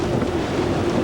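Strong storm wind gusts roar in a dense, steady rush with low rumble, buffeting the microphone during a hurricane, no voices present.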